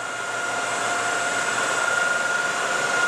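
Whacheon 18 x 60 preowned lathe running at 1800 RPM, a steady high-pitched whine with a constant tonal hum and even airy drone, no voices.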